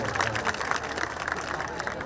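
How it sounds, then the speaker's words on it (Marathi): Dense, steady applause from an audience at a village prize-giving for a children's performance, honoring a young girl who played Sita; the clapping fills the whole stretch without a break while a voice talks over it. "एवढ्या जोरदार टाळ्या नका वाजू आहे"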